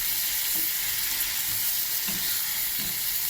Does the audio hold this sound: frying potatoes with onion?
yes